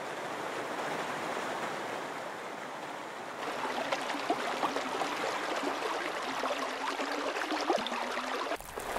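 Water rushes steadily through a hand-dug irrigation ditch cut along the high ground of farmland, a continuous close, fairly loud churning flow heard alone.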